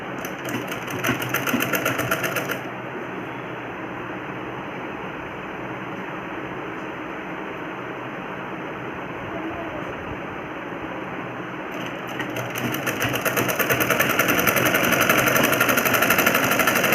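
A sewing machine runs steadily up close, stitching a folded two-inch trouser hem with a continuous fast mechanical whirr, then briefly slows and picks up speed again toward the end.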